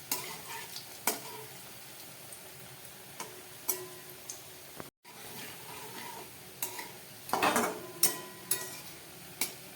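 Chana dal dhoka cakes fry in hot oil with a steady, close sizzle, broken by sharp clicks and scrapes as they are turned in the pan, with a brief near-silent gap midway.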